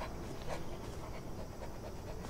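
A dog pants in the video game Hello Neighbor 2, a continuous rapid breathy rhythm heard close and steady against a dense game background, with no talk.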